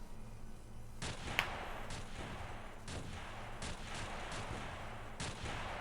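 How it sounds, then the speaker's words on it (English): Automatic gun fire from a fort rooftop in the XPiratez video game: a series of sharp, evenly spaced shots about once a second, each with a short bright crack, over a steady low background hum, with no talk. "it's a fucking auto gun at the top of the fort"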